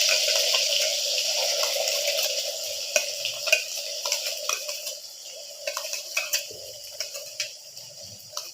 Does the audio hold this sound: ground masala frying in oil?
yes